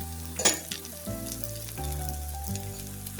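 Egg kebabs frying in hot oil give a soft, steady bubbling sizzle, with a brief clatter of a utensil near the start and no talking.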